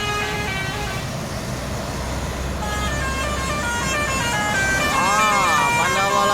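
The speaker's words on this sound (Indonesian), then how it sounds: "Mobil Pandawa 87 2 unit melintas di depan Pul Yuanda Prima." Two Pandawa 87 buses pass in front of a bus depot in Palembang amid steady road traffic, with engine rumble building and several horn toots sounding near the end.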